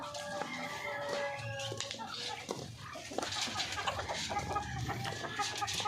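Young Parawakan chickens, over three months old and being raised as future breeders in a backyard farm, cluck repeatedly and irregularly at moderate distance, with scattered bird calls and someone talking over them.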